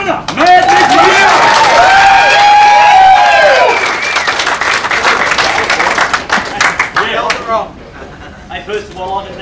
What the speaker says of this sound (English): big round of applause for your winner